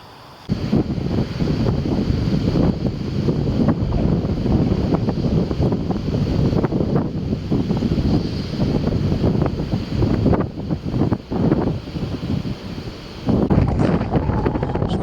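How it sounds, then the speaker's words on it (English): Strong wind outdoors at night with weather moving in, a loud, continuous rushing roar buffeting the microphone for the whole stretch, steady with slight gusts. "Wind's definitely picking up, there's some weather moving in."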